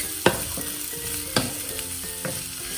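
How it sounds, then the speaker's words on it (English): Potatoes and onions sizzle steadily as they roast in a pan, with a few sharp knocks and scrapes of stirring over the continuous frying hiss. "I am adding potato at this stage because I will be roasting the potatoes with these onions"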